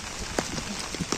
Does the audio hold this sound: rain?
yes